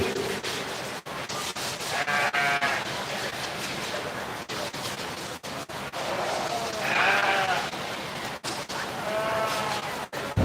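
Market sheep bleat repeatedly at a 4-H and FFA sheep show at a county fair, several overlapping calls rising over a steady crowded barn murmur, with a few louder cries near the middle and end.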